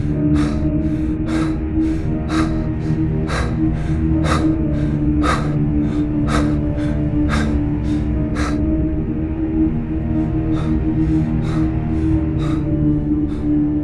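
A person gasps for breath again and again, sharp rapid inhales and exhales in a steady rhythm, fairly close over a constant low hum.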